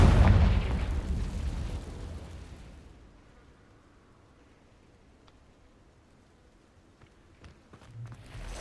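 Deep booming blast from a Confringo spell in the Hogwarts Legacy video game, loud at the outset and rolling away over a few seconds into near quiet, followed by faint scattered clicks and steps.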